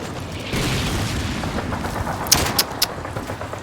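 Mortar explosions and gunfire in the Call of Duty 2 video game: a rumbling battlefield wash with a few sharp, distant-sounding shots and blasts cracking out near the end, no voices heard.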